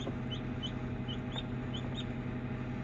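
Newly hatched chicks peep in short, high, repeated chirps at a steady pace over a constant low hum, fairly close and alone with no talk.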